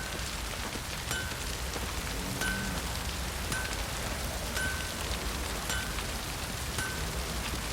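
Steady rain falling in the game The Witcher 3, a constant hiss of drops on surfaces with faint low rumbles, loud and close throughout.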